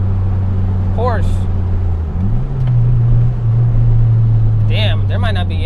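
Porsche car engine idling and then revving with a steady low drone, loud and nearby, while people talk over it in short bursts.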